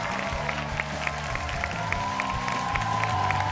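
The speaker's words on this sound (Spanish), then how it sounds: "darle el aplauso que merece a Caperuza" A studio audience applauds for the masked contestant Caperuza at the grand final of a televised masked singing competition, steady clapping mixed with sustained music tones throughout.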